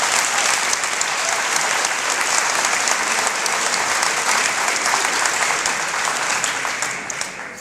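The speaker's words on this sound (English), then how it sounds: "Another round of applause to all our award and scholarship recipients." Sustained audience applause at a high school awards night honoring award and scholarship recipients, a dense, steady wash of clapping from a large crowd that holds loud throughout and eases slightly at the end.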